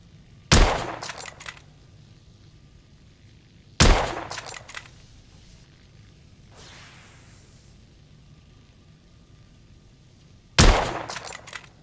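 Three loud, sharp gunshots from the video game The Order: 1886, spaced far apart, each with a sudden attack and a short decaying tail, plus a faint whoosh between the second and third.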